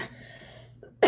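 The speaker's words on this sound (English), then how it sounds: "if you partake of medical marijuana, coughing is going to be part of it" One loud, harsh cough bursts out at the very end after a stretch of near-silent room tone during an at-home yoga session.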